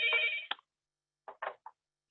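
A telephone rings indoors in an electronic trill, one longer burst followed by a pause and then a few shorter broken chirps, heard alone with no talking.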